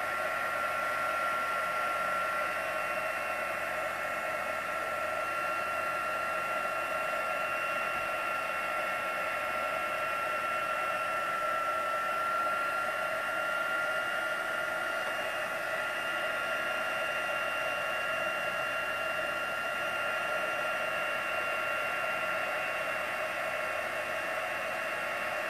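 A heat gun blows steadily for heat embossing in a craft session, a constant loud airy whoosh with a faint whine that holds unchanged throughout, with no talking.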